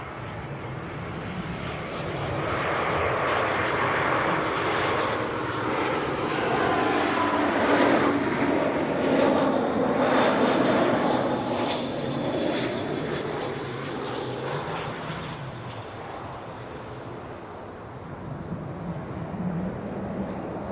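An orange airliner arriving at Auckland Airport, a steady loud jet engine roar that swells and then slowly fades as it passes, heard from a distance outdoors with no talking.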